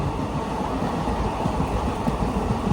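The Mysuru to Talguppa Express running through paddy fields in heavy morning rain, a steady low rumble of the moving train heard from inside, constant and fairly loud with no clear breaks.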